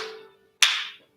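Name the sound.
hand clap during a fitness exercise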